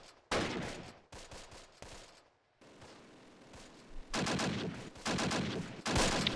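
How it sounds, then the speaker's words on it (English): StuG assault guns in the Close Combat video game fire shots into a building, sharp loud reports in quick bursts separated by short gaps, with no talk. "I'll get our Stugs to move up slightly, put a few shots into the building first and foremost"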